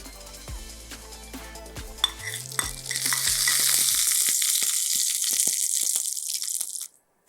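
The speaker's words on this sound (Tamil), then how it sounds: "வெறும் கடுகு உளுத்தம்பருப்பு கருவேப்பிலை தான் தாளிக்க போகிறோம்" Mustard seeds, urad dal and curry leaves tempering in hot oil for rasam, a few clinks of utensils first, then a sudden loud sizzling hiss that crackles steadily for several seconds before cutting off.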